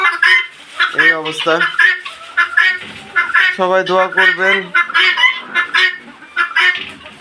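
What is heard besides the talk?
chickens clucking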